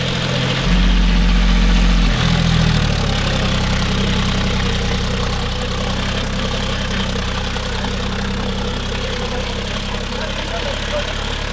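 A John Deere 5050D 4WD tractor engine idles and runs with a steady diesel rumble, loud and close, a brief heavier revving at the start before settling into a constant drone.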